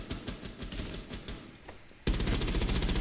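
Gunfire in the tactical shooter Rainbow Six Siege comes as rapid automatic bursts, moderately distant at first, then a sudden loud, sustained stream of close shots that continues to the end.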